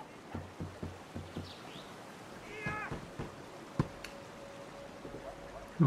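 A cat meows several times in short, close calls, with one longer wavering meow in the middle, among scattered light knocks and background noise.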